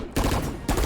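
Two loud bursts of rapid Bulldog rifle fire in Valorant, close and sharp, with a brief lull between them.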